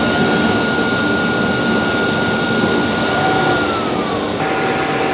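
A Tineco Floor ONE Stretch S6 wet-dry vacuum runs steadily with a loud, continuous motor whine and its brush roller spinning, a tonal hum shifting slightly in pitch near the end as the roller changes direction.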